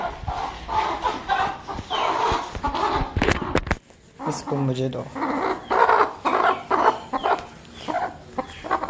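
Chickens cluck and squawk close by amid a scuffle, with people talking and calling out over the flapping commotion.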